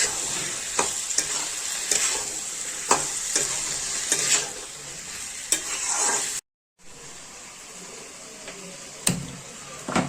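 Steady sizzling of boiled chickpeas frying in a pan, with repeated stirring scrapes and clinks, a brief silent gap midway, then the sizzle resumes.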